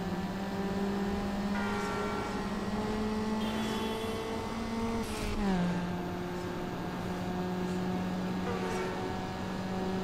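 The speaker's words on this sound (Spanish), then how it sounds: "La válvula de descarga, como suena" A Peugeot 206 in a Need For Speed Underground drag race holds a steady, droning engine tone that climbs, then drops at a gear shift with a brief hissing blow-off valve burst before settling again.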